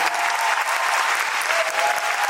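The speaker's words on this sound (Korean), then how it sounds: "우원 음악 감독님께 큰 박수 부탁드립니다" Audience applause for the music director at a musical's closing-night curtain call, a full theatre clapping steadily and loudly throughout, with a faint whistle or cheer partway through.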